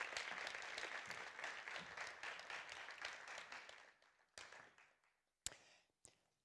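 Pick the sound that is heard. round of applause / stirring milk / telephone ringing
round of applause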